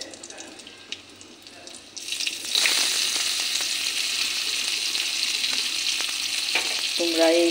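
Chopped onion and whole cumin seeds hit hot oil in a kadai, bursting into a loud, steady sizzle that holds after a quieter start, with faint clinks near the end.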